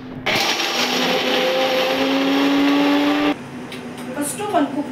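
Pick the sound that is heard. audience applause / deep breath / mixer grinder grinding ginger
mixer grinder grinding ginger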